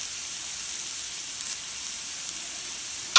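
Chili ingredients fry in a pan with a steady, loud sizzle and hiss that holds even throughout, with no talking.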